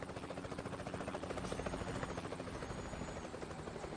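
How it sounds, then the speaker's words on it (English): A police helicopter flies overhead in the truck-driving game Euro Truck Simulator 2, its rotor making a steady, fast, rhythmic thumping drone that holds fairly faint and unchanging throughout with no talk. "cop helicopter? Was that thing checking my speed?"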